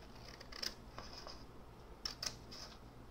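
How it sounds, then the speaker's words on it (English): Scrapbook paper being cut with scissors for a bookmark, a few sharp snips in two small clusters, close and quiet against a faint hum, with no talking. "I'm going to cut that part off because it's, there's a dotted line here that you can cut across."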